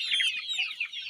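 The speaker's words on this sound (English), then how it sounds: "So as a farmer, these are free range chickens." Free-range improved village chickens in Zambia cluck and chatter continuously at close range, several birds overlapping in a busy, high-pitched flock sound with no talking.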